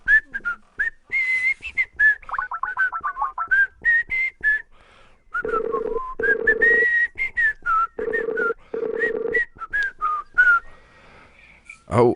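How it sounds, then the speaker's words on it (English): A person whistles a wandering, tuneful melody as stand-in hold music, clear and close, with short phrases separated by pauses and a few brief background noises. "we're not going to have hold music. I'll have to whistle."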